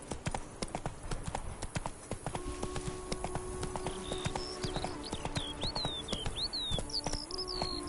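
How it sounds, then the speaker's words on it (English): Horse in The Witcher video game galloping with steady clip-clop hoofbeats, with light bird chirps and game music in the background. "Come on, Roach."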